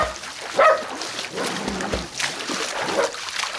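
A dog gives a few short whimpers and a sharp bark amid splashing, watery noise at a swimming pool, all fairly close and uneven.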